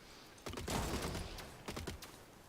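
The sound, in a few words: machine gun firing in the video game Gladiabots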